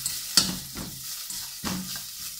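Garlic and chili paste fry in hot oil for a Chinese hot and sour soup, giving a close sizzle broken by several sharp stirring and scraping bursts, with no talking.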